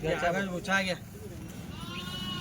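Kathiawadi dairy goats at a village livestock market: two strong, wavering bleats close by in the first second, then a steady murmur of crowd noise.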